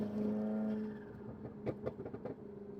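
A McLaren engine rumbles, then a rapid series of sharp exhaust pops crackles close by.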